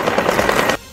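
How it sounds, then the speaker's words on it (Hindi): Rapid machine gun fire from helicopters during a nighttime Russia–Syria military drill: a dense, steady string of loud, close bursts lasting under a second, then cut off abruptly into near silence. "हेलीकॉप्टर से सैनिक इतनी गोलियां चलाते दिखे कि अंधेरे में सिर्फ फायरिंग की"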